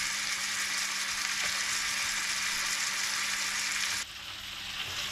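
Calf liver fries in butter in a hot pan set fairly high, giving a steady, close, continuous sizzle that drops slightly in level near the end.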